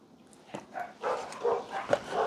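Dogs barking indoors in a short, irregular burst of several barks and yips at moderate distance, with no talk over them.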